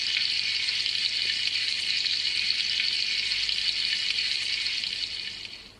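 Fireman's breakfast sound effect from a Hornby TT:120 Easterner model train, a steady frying sizzle that holds even and loud for several seconds before easing slightly at the end, with no talking.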